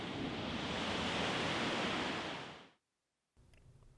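Ocean waves produce a broad, steady roar of surf that fades out abruptly into brief silence. A fainter, thinner background sound then returns.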